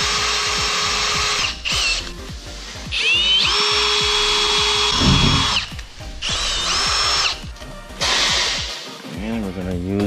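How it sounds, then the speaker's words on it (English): A power drill boring a pivot hole in a 2017 Ford F-150 during a CNG bi-fuel conversion, with several whining bursts that rise and cut off between pauses, loud and close, with brief handling noises between runs. "Make a pivot hole."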